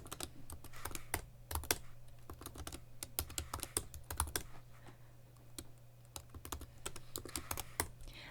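Rapid, steady typing on a computer keyboard while entering a terminal command, with crisp, close key clicks in a dense, irregular rhythm and no voices.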